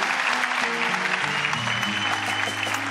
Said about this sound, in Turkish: komşular, siz niye alkışlıyorsunuz?